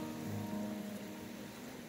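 Steady rain falls outdoors in Grand Teton National Park, a faint, even hiss of drops with no talking.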